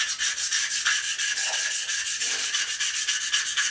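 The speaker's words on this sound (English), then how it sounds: "you might be able to scrape up a lot of the top surface, which it looks like it's doing" A razor blade scrapes black tar mastic off a floor, giving a steady, close, continuous raspy rubbing with a regular stroke rhythm and no talk.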